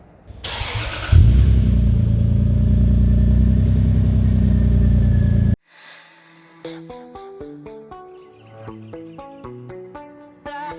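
A Toyota Aristo JZS161 engine catches and roars loudly up close, holding a strong, growling rev for several seconds before cutting off abruptly into background music.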